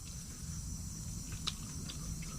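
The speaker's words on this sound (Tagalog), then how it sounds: "Talagang kuliglig lang yung maririnig natin magdamag." Crickets at a riverside camp at night chirp as a faint, steady high-pitched drone, with a few brief louder chirps over a quiet background.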